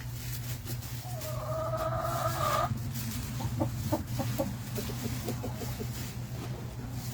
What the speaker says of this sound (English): He's our senior rooster.